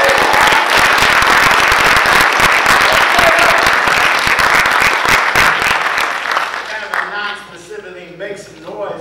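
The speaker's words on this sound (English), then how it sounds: "They chose to just applaud and make yell." A live audience bursts into sustained applause and cheering for an actor at a Q&A event, dense clapping with shouts filling the room before fading toward the end as a voice begins to speak.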